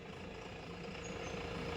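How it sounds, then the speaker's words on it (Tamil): A tractor engine idles roughly and unevenly, a steady low rumble running close and continuous with no break. "ஏன் ஐடியலில் வண்டி அனத்தி ஓடுதுன்னு தெரியலைங்களே"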